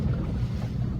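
Waves and churning water from boats out at sea, heard from a kayak off Hong Kong, form a steady low rush blended with wind noise on the microphone.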